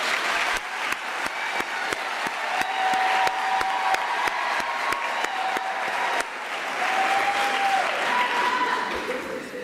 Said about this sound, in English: can we just give a round of applause of the people who are sitting on this side of the room, please?